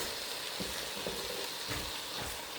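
Garlic and green onion frying in a hot pan for vegan ramen, a loud, steady close-up sizzle with faint stirring scrapes throughout.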